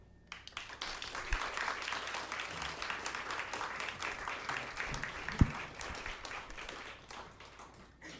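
An audience at a literary series event applauds after a reading: sustained clapping from many hands, swelling quickly, holding steady, then tapering off near the end.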